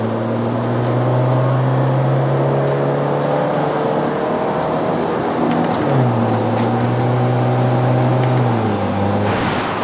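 A Honda Civic FC 1.5 turbo with a CVT accelerates up a mountain road, its engine drone loud and steady from inside the cabin, holding a constant whine with a brief dip in pitch midway and no talking.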